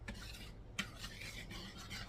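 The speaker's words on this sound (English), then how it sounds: "We're gonna whisk that together" Cookie batter ingredients are whisked in a bowl, making quick rhythmic scratchy strokes with one sharper clink near the start, close and quiet.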